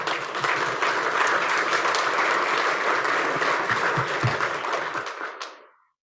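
A crowd at a health organization's annual celebration applauds and cheers, a thick sustained roar of clapping that holds steady for several seconds before tapering off and fading out at the end.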